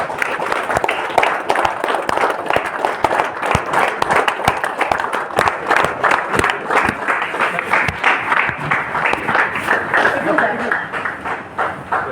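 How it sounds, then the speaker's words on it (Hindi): An audience at a paint product sales session claps in a lively, rhythmic burst, individual hand claps sharp and close, continuing for several seconds before tapering off slightly toward the end. "जोरदार तालियां।"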